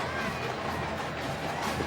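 A stadium crowd fills the air at the 2014 Heart of Dallas Bowl, a college football game between North Texas and UNLV, as a steady, distant roar. A broadcaster's voice talks over it.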